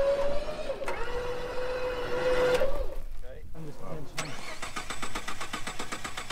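A car engine is cranked and started during a vehicle recovery, with a steady whining tone and rough mechanical churning that sputters and catches, while voices sound nearby.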